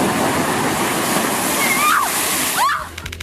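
An ocean wave crashes over people posing for photos at the shore, a loud roaring wash of surging water and splashing, ending with a few sharp spatters and a brief shriek-like sound.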